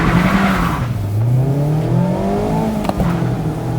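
Mazda MX-5 RF retractable-fastback roadster accelerating hard from a standstill, engine note rising steadily through the revs with tire squeal at launch, loud and close, with no talking.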